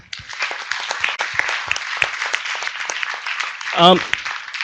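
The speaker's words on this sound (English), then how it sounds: "Please give a round of applause again." Sustained audience applause at a conference closing plenary, a dense patter of many hands clapping, with a brief voice cutting in near the end.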